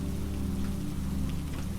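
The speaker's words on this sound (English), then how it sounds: "The rain drifts between soft and heavy," Steady, dense rain falling on a seaside cabin, an even hiss and patter with no breaks, fairly close and alone, with no voices.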